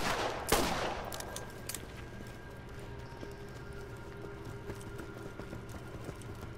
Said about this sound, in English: I can actually see those shots blowing up in the distance